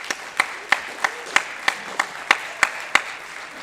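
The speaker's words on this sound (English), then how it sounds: "So I think that alone deserves a round of applause." A small concert audience gives a slow, even round of applause, about ten distinct claps spaced roughly a third of a second apart, close and clear against a quiet hall after solo and ensemble contest honours are announced.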